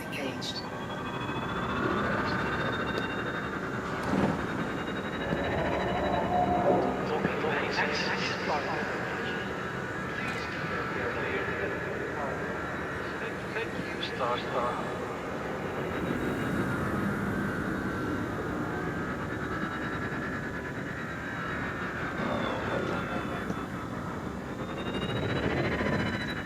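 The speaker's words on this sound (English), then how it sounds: "Engines engaged." Spaceship engines in Elite Dangerous hum as a steady, continuous drone with shifting tonal layers, engaged and running throughout under a speaking voice.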